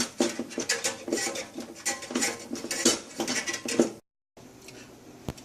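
Stainless steel Tridon worm-drive hose clamps are tightened for a granite undermount sink install, giving a close, busy metallic clinking and ratcheting that stops abruptly, then a brief quieter stretch ending in a single sharp click.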